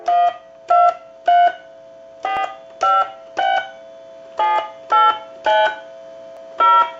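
A telephone keypad sounds ten short DTMF dialing tones on a European phone under repair, each a clear steady beep. They come in an uneven rhythm with small gaps between them, close and loud, with no talking.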